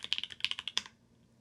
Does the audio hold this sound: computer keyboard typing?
yes